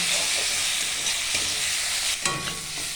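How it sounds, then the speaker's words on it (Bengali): Tadka masala being stirred in a frying pan for egg tadka, a steady close sizzle with soft scraping and a brief clatter near the end, no voices. "এবারে মশলাগুলোকে মিশিয়ে নেব।"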